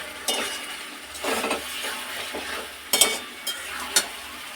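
Spice paste sautéing in a pan for a cauliflower and prawn curry, a low simmering sizzle broken by a few clinks and scrapes of a utensil against the pan, close by.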